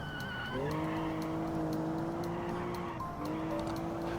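Tyre screech from a skidding car in a driving video game, a sustained squeal with a steady pitch that holds for several seconds, dips briefly and then resumes, loud over an engine drone, with no talking.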